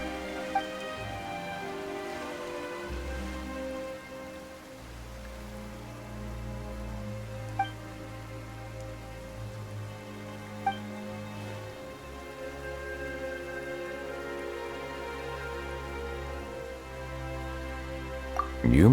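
Steady rain patters in the video game Genshin Impact over a sustained musical backdrop, with a few brief clicks scattered through; no one speaks.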